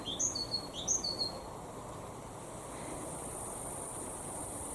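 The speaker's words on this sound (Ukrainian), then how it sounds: "І я ніколи не чула тут цю пташечку." A small bird sings a few quick, high chirping notes at the start, then falls silent against a soft, steady outdoor hiss.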